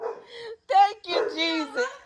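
Dogs locked inside a house, including a pit bull, give a quick run of high barks and yelps, close and excited, with little pause between calls.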